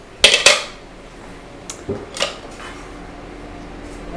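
A metal baking pan clatters in a home kitchen, two sharp bangs close together followed by a few lighter knocks and scrapes, with no talking over it.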